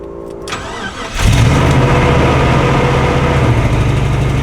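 A vintage RV engine cranks, catches and starts after a second, then settles into a loud, steady rumbling idle.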